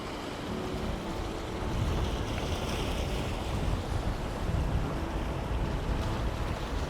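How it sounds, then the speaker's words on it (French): Sea waves at high tide on the beach at Ostend, a continuous quiet wash of surf with a soft wind hiss, steady and fairly distant, no voices. "je pense qu'on est à marée haute, la mer monte"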